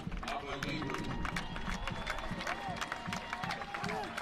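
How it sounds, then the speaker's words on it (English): Stadium crowd applauding a substituted player at a Phoenix Rising FC versus Monterey Bay FC soccer match, steady sustained clapping and cheering filling the stands with loud crowd noise throughout. "Good round of applause for Hope Avievu"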